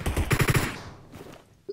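Rapid bursts of automatic gunfire from a refined MK weapon in a video game fire in a tight, loud cluster, then trail off into a quieter tail before a brief final sound.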